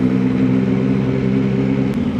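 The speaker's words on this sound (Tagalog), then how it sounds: "gusto ko lang marinig yung tunog ng exhaust" Motorcycle exhaust on a solo ride, a steady droning engine rumble at constant speed, moderately loud and close, with wind hiss over it and no voices.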